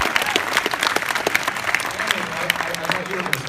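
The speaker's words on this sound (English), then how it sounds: "I thought you were going to start that clap," Applause from a convention audience at a Wizard World Comic Con panel in San Jose, a dense, steady patter of many hands with sharp individual claps poking through, moderately close and continuous throughout.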